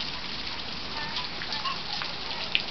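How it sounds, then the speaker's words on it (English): Steady rain patters on a roof, a dense even hiss with occasional louder drips, no voices. "looks like the rain might be letting up"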